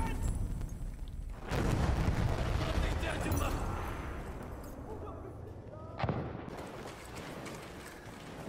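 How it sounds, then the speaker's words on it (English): A thrown grenade bursts in a Battlefield 1 match, one heavy boom followed by a second blast a few seconds later, over a busy wash of gunfire and battle noise. "Dikkat, bomba atıyorum."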